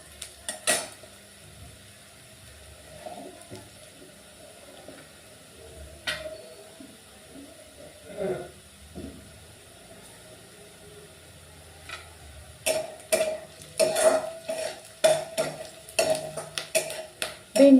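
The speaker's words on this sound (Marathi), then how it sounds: "तिथे कांदा चांगला परतू द्यायचा आहे" Chopped onion is stirred and sautéed in a pan for a quick okra stir-fry. A spatula scrapes and clinks against the metal in scattered bursts that grow busier toward the end, over a faint sizzle.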